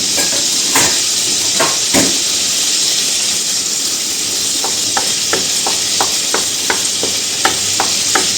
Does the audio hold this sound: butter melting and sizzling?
yes